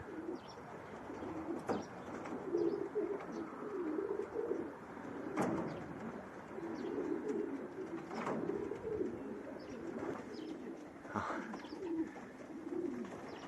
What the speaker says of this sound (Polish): Jeszcze samczyki sobie gruchają wesolutko.